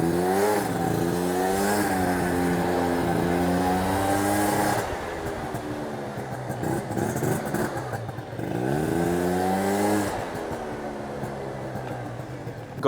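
A Yamaha BWS 50 scooter with a Stage6 performance build idles on its own once warmed up, a steady buzzing engine drone near the microphone that dips and rises slightly, running alone without any talking.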